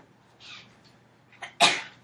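A soft intake of breath, then a single sharp, loud sneeze close by during a math lecture, standing out against a quiet room.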